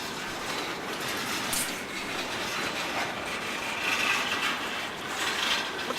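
A freight train creeps past on rails at slow speed in Perryville, Maryland, a steady broadband rumble and rolling wheel noise, close and continuous with faint clicks.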